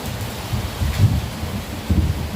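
Heavy rain drums on a tiled roof in a dense, steady wash with a low rumbling undertone, loud and continuous with no voices.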